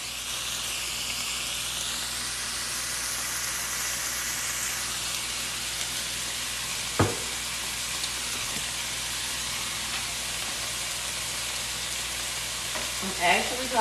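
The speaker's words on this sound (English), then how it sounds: "Let the sausage fry." Sausage frying in a pan for a quick zucchini and squash dinner, giving a soft steady sizzle and hiss throughout, with a couple of brief clinks of a utensil against the pan.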